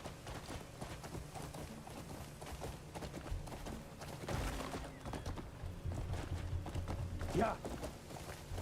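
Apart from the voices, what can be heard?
horse hooves while riding, from video game Crimson Desert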